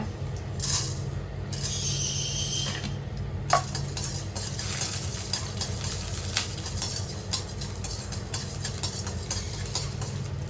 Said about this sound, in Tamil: உளுந்து பருப்பு போட்டுக்கலாங்க கடலை பருப்பு போட்டுக்கலாங்க